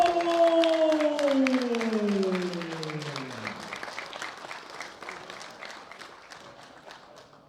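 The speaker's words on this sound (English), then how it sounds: "A big round of applause for David Doan." Applause for a world-record bench press winner at the 2016 World Bench Press Championships, a dense crowd clapping that fades gradually over several seconds while a sustained falling tone sweeps down beneath it early on.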